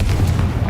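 A short, deep booming blast from a Confringo fire spell in Hogwarts Legacy, a single loud low rumble that fills the brief moment.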